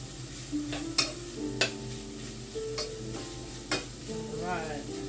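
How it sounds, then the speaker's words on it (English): Meat in a pan being stirred to coat it with seasoning, a steady sizzle under several sharp utensil scrapes and clinks against the pan, close and fairly quiet. "You're going to stir that in right quick. Make sure it coats the meat."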